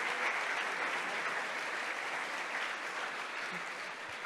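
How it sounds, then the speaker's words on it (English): A crowd at the HackUPC 2026 hackathon closing ceremony applauds the participating teams. The clapping is dense and continuous and eases off slightly toward the end. "please, a round of applause to all the teams that have participated"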